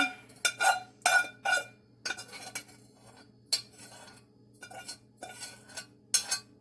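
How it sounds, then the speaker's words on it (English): A metal spoon scrapes and clinks against a pan while moving the last of a homemade salve into a jar, in repeated short bursts separated by quiet pauses, close and distinct. "we'll use the spoon to get any last bit"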